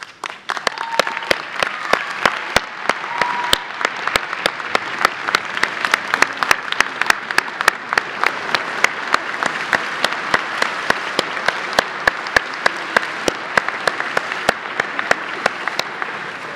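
A large audience applauds at a law school commencement, with steady, sustained clapping and sharp individual claps standing out, holding at an even level throughout.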